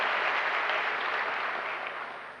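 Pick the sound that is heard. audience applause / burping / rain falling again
audience applause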